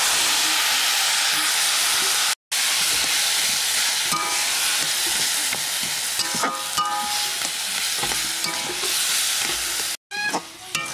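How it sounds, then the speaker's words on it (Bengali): Wild field greens frying in oil with green chili, onion and garlic, stirred in the pan: loud, close sizzling and hissing with repeated scraping stir strokes and brief gaps, no voices. "শাকটা ভাজা হয়ে গেছে পুরো"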